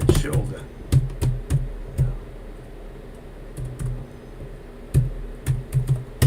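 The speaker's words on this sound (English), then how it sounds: "Oh, I'm typing in the wrong one." Computer keyboard typing during a trading livestream, sharp irregular keystroke clicks in short bursts with pauses, close and fairly clear over a low room hum.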